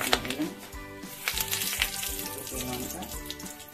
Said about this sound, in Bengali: এবারে ফোড়নগুলো দিয়ে দেবো একে একে